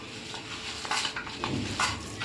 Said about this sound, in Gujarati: હવે બધું મિક્સ કરી દઈશું આપણે.